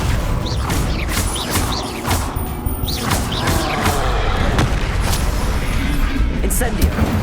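Repeated Confringo fire-blast spells in the video game Hogwarts Legacy, a string of loud crashing booms and thuds at irregular intervals amid continuous combat noise.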